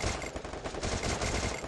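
Rapid automatic gunfire in a competitive 4v4 shooter video game match, a dense, loud burst of repeated shots filling the whole short moment with no talk.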